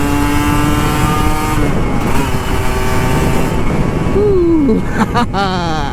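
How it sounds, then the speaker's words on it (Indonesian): A Kawasaki Ninja RR 150 two-stroke motorcycle running close by on a Jakarta morning ride, engine droning and rising in pitch as it revs, with a voice briefly heard over it. "pagi-pagi ngegas Ninja"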